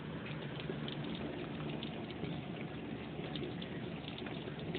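Steady broadband hiss of heavy rain pouring down in a big storm, continuous and even throughout with no voices.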